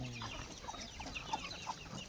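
Farm chickens give soft, scattered clucks, faint and a little distant, over a quiet outdoor background.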